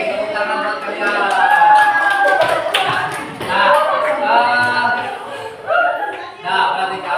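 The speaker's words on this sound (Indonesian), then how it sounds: "Tepuk tangan buat kalian." Students in an Indonesian classroom clap for a winning group, a moderate burst of scattered applause with faint chatter and chuckles mixed in.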